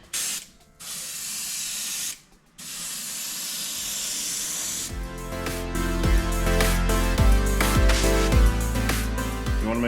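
A compressor-fed sprayer hisses out Mod Podge onto a fish mount in loud, steady bursts with two short pauses. Then a rhythmic mechanical clatter with sharp ticks takes over as the hiss fades.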